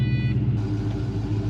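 Low, steady engine rumble from a car riding on newly fitted front coilovers in place of old rubber bushings, a continuous drone with a brief high tone fading early on.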